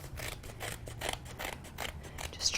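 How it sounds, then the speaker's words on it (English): Scissors snip through card stock in a crafting session, a quick series of crisp, close cuts trimming excess from the edge of a patterned card, steady and rhythmic with no talking. "And I'll bring my scissors right underneath the edge here."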